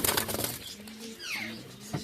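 Pigeons in a village loft coo softly over a short burst of wing flapping, with a quick swooping call at mid-range close by.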